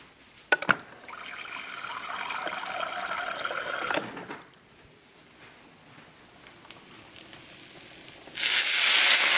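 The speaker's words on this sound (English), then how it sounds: "now I'm going to add water" Water is poured into a cooking pan of cabbage and noodles with a steady rushing splash for a few seconds, then a quieter trickle, followed by a sudden loud hiss.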